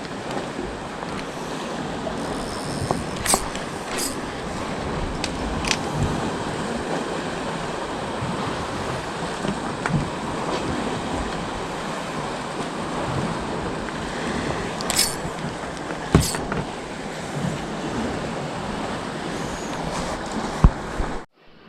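Sea waves wash steadily against a rocky shoreline while gusty wind buffets the microphone, a continuous broadband roar with occasional sharper gusts throughout, heard at a coastal squid-fishing spot.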